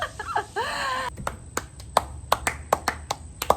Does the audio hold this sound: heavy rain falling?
no